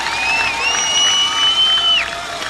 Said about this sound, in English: Give them a big round, guys.